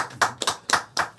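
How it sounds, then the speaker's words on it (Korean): A small church congregation clapping, four or five sharp close claps in quick succession, loud and rhythmic but brief. "박수 한번 주세요. 박수."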